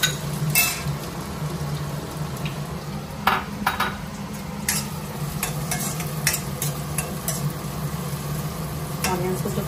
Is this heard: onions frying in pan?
yes